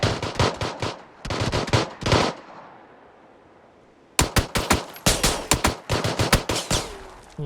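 Automatic gunfire from PUBG in rapid bursts: a short run of shots, then a burst of dense fire, a quiet gap of about two seconds, and a long sustained string of sharp, loud shots. No voices over it.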